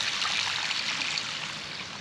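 Water drains out of a garden tank in a steady, close rushing trickle, a constant hiss with no pauses.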